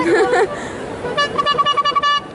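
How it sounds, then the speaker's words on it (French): A car horn honks in a street outside a Japanese culture convention, with a short burst followed by a series of quick toots amid crowd chatter and nearby voices. "C'est un klaxon."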